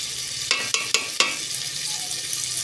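Fish curry masala is stirred and fried in a pan in a home kitchen, a steady sizzle broken by four sharp spatula scrapes early on.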